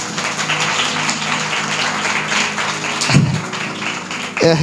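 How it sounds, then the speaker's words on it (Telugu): A church congregation claps together during a sermon, a dense, fairly loud burst of applause that starts as a hum under the preacher's voice and swells briefly near the end. "చప్పట్లు కొట్టండి దేవుడి గట్టిగా."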